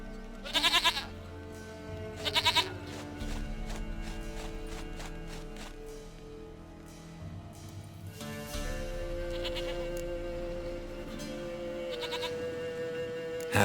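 Short, nasal bleats from a goat in The Witcher 3 come in two loud bursts early on, with a later bleat and soft hoof-like footsteps over ambient game music.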